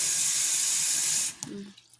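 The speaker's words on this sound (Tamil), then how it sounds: "நல்லா தண்ணி ஃபுல்லாக ஊற்று." Water gushes steadily from a tap, then abruptly stops, leaving a few faint clinks and drips.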